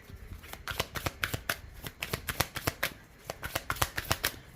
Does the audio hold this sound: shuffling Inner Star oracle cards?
yes